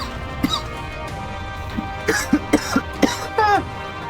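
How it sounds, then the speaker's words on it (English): A video game character coughs in a string of short, sharp bursts, several in quick succession near the end after a single cough earlier, close and clear over a faint background. "I'm coughing"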